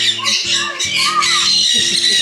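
Parrots and other birds at Loro Parque, Tenerife squawk loudly and continuously in a dense, harsh chorus, with a voice briefly speaking beneath the din.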